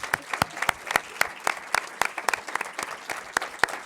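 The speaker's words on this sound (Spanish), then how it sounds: "Un aplauso." Scattered applause from a small audience at the close of a talk, individual claps distinct and irregular rather than a dense roar, fairly close and moderately loud.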